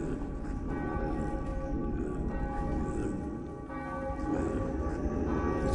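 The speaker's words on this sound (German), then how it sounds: "Ich höre Kirchenglocken." Church bells ring steadily in the video game The Path, a sustained, resonant chiming that holds for several seconds with a slight dip midway.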